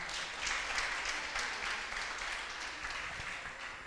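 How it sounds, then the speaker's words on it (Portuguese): A church congregation claps together in a steady, even wash of applause that holds for several seconds, heard at a modest distance and fairly soft. "Aplauda o Senhor pela vida do nosso irmão."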